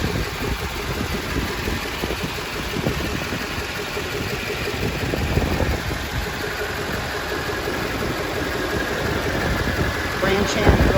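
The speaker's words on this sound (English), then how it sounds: "Vehicle is running." A 2006 Chevrolet Silverado 3500 truck engine idles with a steady, rough low rumble and faint knocking, heard close, with a voice talking over it.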